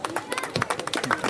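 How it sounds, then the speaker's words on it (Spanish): Lively applause and cheering from a crowd at the final of a small Christmas football tournament, brisk clapping close by mixed with shouting voices. "Fuertes los aplausos."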